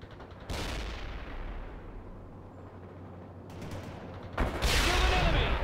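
Rocket launchers fire in the World in Conflict strategy game, with booming blasts that give way to a rumbling, decaying tail, then another loud burst near the end.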